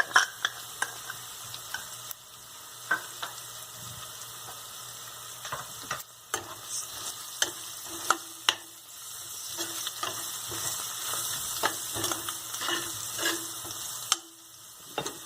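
Turmeric and red chili powder being stirred into sizzling pav bhaji in a pan, with a steady low fry and repeated light spoon clicks and scrapes spread irregularly over it.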